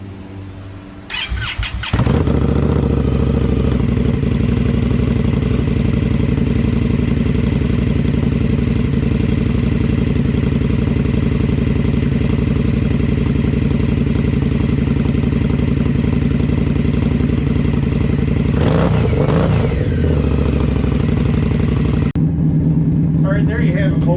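An Indian Scout motorcycle, freshly fitted with new spark plugs, cranks briefly and fires up, then settles into a loud, steady idle that runs for about twenty seconds with a few revs, close to the mic.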